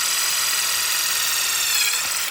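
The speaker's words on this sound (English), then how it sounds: "we're using a step drill" A step drill bores a pilot hole through a MultiPro tailgate during a ClearVU kit install, a steady, loud, close whine and grind that holds for about two seconds and then cuts off abruptly.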